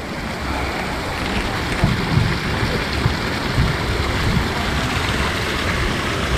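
Water flows in a stream running toward a river in Kalijati, making a dense, steady, loud wash of rushing noise with faint low bumps and distant voices beneath.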